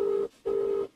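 A phone call rings out with a steady electronic ringback tone: two long, even tone bursts separated by a short silent gap, clear and close with no voices.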